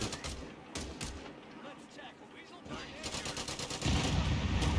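Artillery barrage in the Company of Heroes 3 war game: bursts of booming shell impacts and crackling gunfire, intermittent explosions building to a dense, louder volley near the end.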